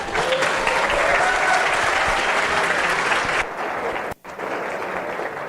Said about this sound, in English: Please, a big applause.